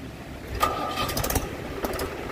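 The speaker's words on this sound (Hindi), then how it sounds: "तो भाई वो ट्रैक्टर स्टार्ट हो गया चचा वाला।" A tractor engine cranks and catches in the open, a loud rough mechanical burst with a whining tone, then settles into a rumbling run with sharp clattery peaks.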